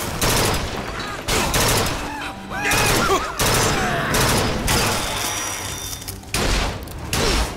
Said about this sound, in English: That guy has a shotgun.